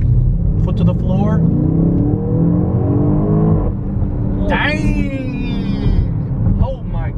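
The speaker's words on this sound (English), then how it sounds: "First pull in the X5M. Foot to the floor." 2021 BMW X5M SUV accelerating hard at full throttle on a highway, a loud, steady engine roar rising in pitch through the pull, heard from inside the cabin with no talk.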